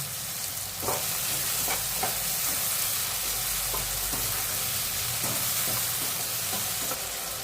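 Tomatoes sizzle in hot oil for masala uppittu, a loud, steady frying hiss with the sharp scrape and clack of a spoon stirring the pan at intervals.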